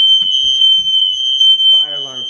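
A piercing, steady high-pitched fire alarm tone sounds continuously inside a house, with brief voices and a short vocal sound underneath.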